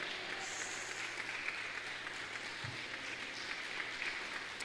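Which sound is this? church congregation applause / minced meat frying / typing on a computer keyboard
church congregation applause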